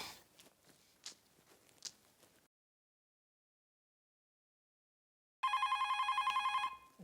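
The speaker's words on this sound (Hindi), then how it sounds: "जरूर सुंदर का फोन होगा।" A loud electronic telephone ring bursts in after a stretch of silence, a single sustained bright trill lasting over a second, following some faint footsteps and rustling.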